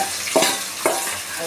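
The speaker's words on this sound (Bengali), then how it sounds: "দেখুন আমাদের তেলটা গরম হয়ে গেছে, এবার আমরা পেঁয়াজগুলো ছেড়ে দেবো।" Onions dropped into hot oil sizzle steadily while a utensil stirs them, giving three sharp scraping strokes at regular intervals over a continuous frying hiss.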